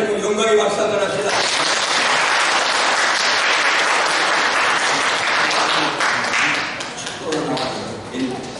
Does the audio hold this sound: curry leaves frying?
no